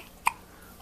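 A baby's single small hiccup, a short sharp burst in a quiet indoor setting, heard alone without talk.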